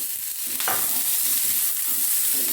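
Two finely chopped onions frying in a spoonful of oil in a pan, a continuous soft sizzle with faint stirring scrapes, no voices.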